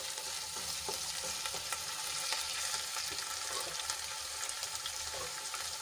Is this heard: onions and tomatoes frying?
yes